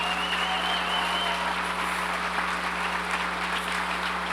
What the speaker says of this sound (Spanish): ¿por qué no le damos un aplauso fuerte a los padres que están aquí?